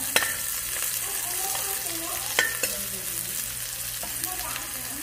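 Fresh onion and garlic frying in a pan, a continuous close sizzle with a few sharp clinks and scrapes of a utensil stirring, no talking.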